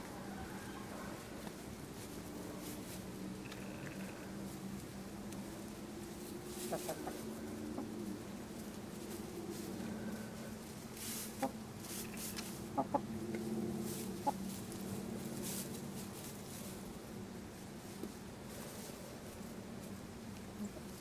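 Gold and silver laced Wyandotte hens with some sex-link chickens cluck softly in a hay-mulched yard, scattered short calls over a steady low murmur of the flock, with a few sharper sounds near the middle.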